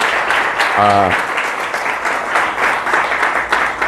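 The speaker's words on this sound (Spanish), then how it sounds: "Denle un aplauso al Rey bendito" A church congregation applauds, sustained dense clapping throughout, with a brief sung or spoken voice near the start over the crowd.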